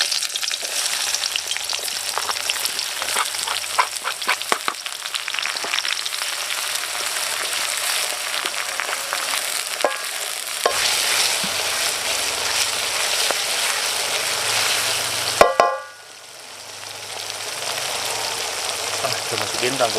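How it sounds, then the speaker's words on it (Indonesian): Shallots and garlic fry in hot oil in a wok with a loud, steady, crackling sizzle that fills the whole stretch, with faint stirring scrapes and one clunk before the sizzle dips slightly. "Nah teman-teman, bawang-bawangannya langsung kita goreng ya."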